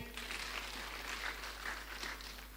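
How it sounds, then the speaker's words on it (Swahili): A church congregation at a Kikuyu service applauds, a faint, distant wash of clapping that swells in soft waves over a low electrical hum. "Kanisa tuwapigie makofi"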